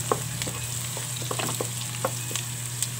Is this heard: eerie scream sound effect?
no